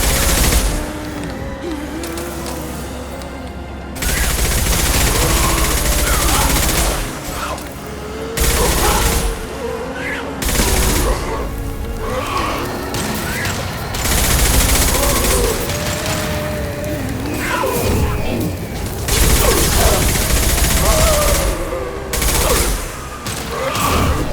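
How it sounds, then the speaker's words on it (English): High-impact gunshots and bursts of gunfire in the Mass Effect video game ring out loudly in repeated volleys, with sustained blasts and crashes and little talk. "Firing a high impact shot."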